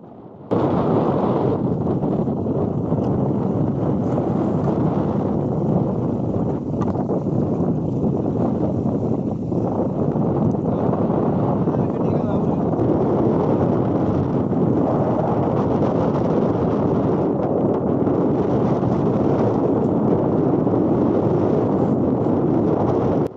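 Strong wind at sea buffets the microphone with a loud, constant roar while a boat's sail is hoisted using a wooden kadis pole, and the gusting rumble never lets up.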